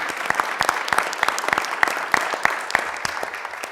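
Audience applause for the families at a city council meeting, a steady crackle of many hands with sharper individual claps standing out, fairly loud and close, holding throughout without talk.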